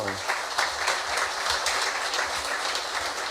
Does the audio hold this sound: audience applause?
yes